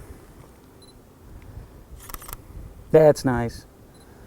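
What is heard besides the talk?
camera shutter clicking during photo shoot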